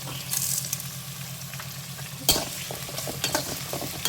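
Onions sauté in a pan with a little salt for a Tamil-style shrimp curry, sizzling steadily and close while a spoon stirs with scraping clatters, including a sharp knock partway through; no talk.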